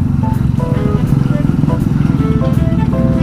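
A mini motorcycle engine revs during a test ride on the street, a loud buzzing putter that rises and falls under steady talking, with brief engine pitch swells throughout.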